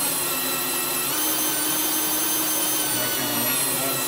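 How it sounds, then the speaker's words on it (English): A drill bores a hole into the wood of a bluebird birdhouse, a loud, steady high-pitched whine running unbroken close to the microphone. "let the drill bit do the work"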